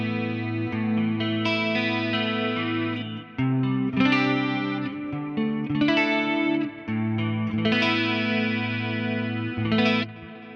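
Electric guitar playing chords through a Quad Cortex clean preset with a shimmering chorus effect, ringing steadily and fairly loud, with brief pauses between phrases.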